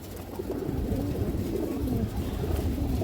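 Pigeons coo in low, throaty murmurs, overlapping steadily and close by, with a soft rustle of birds moving underneath.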